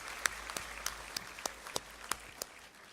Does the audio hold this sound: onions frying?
no